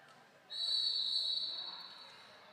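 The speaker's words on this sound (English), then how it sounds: "Sounds like that whistle is gonna bring us into halftime." A single sustained referee whistle blast signals halftime at a Philly Brawl Stars versus Crooked River game, sharp and loud for about a second and then tailing off over faint background noise.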